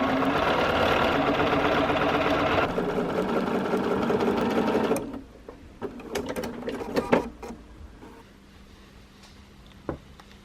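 A sewing machine runs steadily as quilt block pieces are stitched together, loud and continuous for about five seconds, then stops, followed by quieter fabric handling and light clicks.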